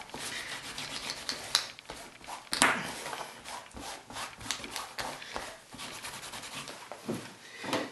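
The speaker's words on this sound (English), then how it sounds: "So as you can see, I'm just rubbing it into the fabric." Wax being rubbed by hand into the fabric of a classic motorcycle jacket: soft, close scuffing and brushing strokes in an uneven rhythm, quiet and without speech.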